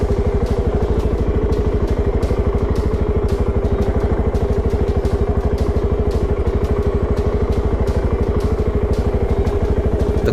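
A Voge 650 DSX motorcycle engine runs steadily and loud at low revs, with a fast even rumbling pulse throughout while the bike is turned around in a tight spot.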